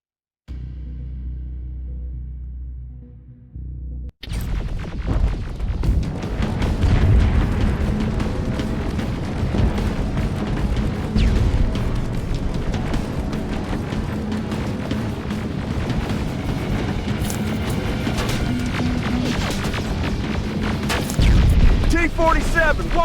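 Rocket and grenade explosions in the video game Terminator Resistance, with a dense, continuous barrage of booms and crashes over game music, loud throughout after a quieter opening.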